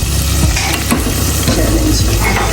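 Onion, tomato and yogurt masala fries loudly in a pan, a dense continuous sizzle close up with repeated stirring scrapes.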